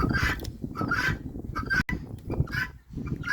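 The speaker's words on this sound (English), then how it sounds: "you guineas don't make this recording thing very easy. They are a pretty noisy bunch." Guinea fowl calling noisily near a coop: repeated harsh, rhythmic squawks come in quick bursts, close and loud, with no talk over them.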